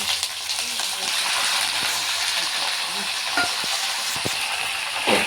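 Curry leaves and coriander hiss and crackle in hot oil as tempering for Andhra-style coconut chutney: a steady close sizzle with a few sharper pops near the end.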